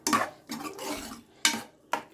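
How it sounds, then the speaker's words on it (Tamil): A ladle mashing hot green gram dal in a metal pan, giving four separate scraping, clattering strokes against the pan with short pauses between them, close and moderately loud. "இதுமாரி சூடாக இருக்கும்போது கரண்டியால் கொஞ்சம் மேஷ் பண்ணிக்கலாம்"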